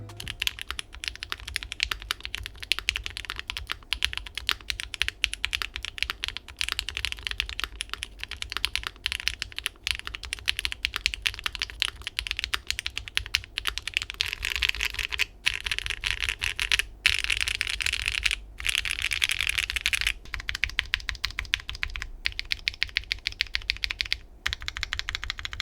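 Typing on a Wind Z75 custom mechanical keyboard with no foam inside, a dense, steady stream of close, crisp key clacks with brief pauses and occasional heavier strokes, no talking throughout.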